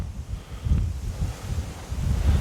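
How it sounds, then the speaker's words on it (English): Gusty wind buffets the microphone in low rumbling bursts, steady and fairly loud, with no voices. "It's windy."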